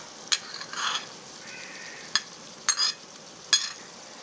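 Green chillies and onion going into a hot pan for achari masala bhindi, heard as a few sharp utensil clinks and scrapes with brief bursts of soft sizzling and stirring, close up and with no talking.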